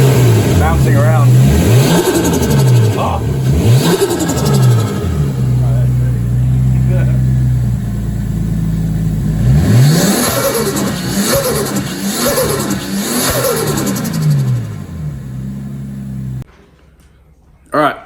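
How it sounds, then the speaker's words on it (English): Nissan Skyline R33 engine revving hard in repeated rising and falling sweeps, loud and close, with turbo piping noise, ending in a short drop to near quiet. "that's Adens R33. It sounds absolutely sick"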